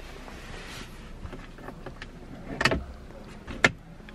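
The interior cover in a 2018 Lexus LC 500 slides back automatically, with a soft motor whir inside the cabin followed by two sharp clicks or thumps.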